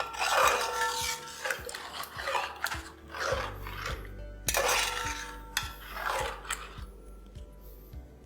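Yogurt-marinated chicken for Hyderabadi-style biryani is stirred in a pot as it starts to boil, giving repeated scraping and rubbing strokes with occasional soft clinks of a spoon on metal, close and moderately quiet with no talk.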